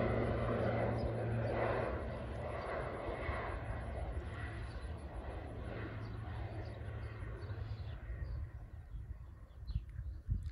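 A crop-dusting airplane carrying spray passes overhead, its engine a loud continuous drone with a steady propeller throb that slowly fades a little as it moves off, with faint bird calls in the background.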